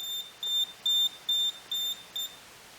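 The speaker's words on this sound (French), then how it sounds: "l'alarme s'enclenche. Donc là, le niveau sonore est assez faible" A DIY barometer storm alarm beeps at low volume: six short, evenly spaced, high-pitched electronic beeps, clear and close, with nothing else over them.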